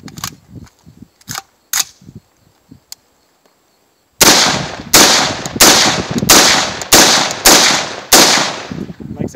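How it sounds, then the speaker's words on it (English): An FRS-15 rifle fitted with a Thordsen stock fires seven loud, sharp shots at a steady pace outdoors, each crack followed by a brief decay, after a stretch of faint handling clicks and rustling. "We'll go ahead and fire a couple more rounds."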